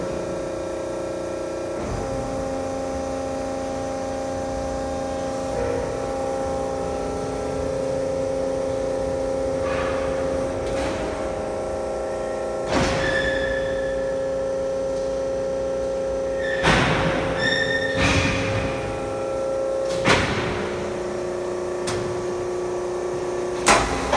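A hydraulic ram on a 12-station e-coat system pushes a rack forward into the curing oven, with a steady machine hum and tonal whine broken by several clanks and thumps, and no talking.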